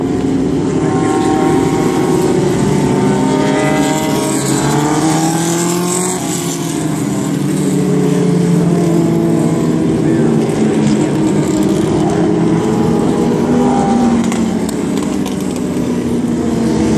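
Loud engines drone continuously as several vintage sports racing cars, including Can-Am and WSC cars, roar past one after another at Circuit of the Americas, with rising and falling engine tones layered over each other.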